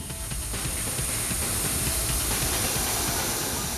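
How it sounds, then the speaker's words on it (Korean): A harsh, continuous abrasive hiss as a fast sanding belt polishes a stainless steel bowl, steady and loud throughout. "다음은 사포 벨트에 그릇을 마찰시켜 연마하는 작업"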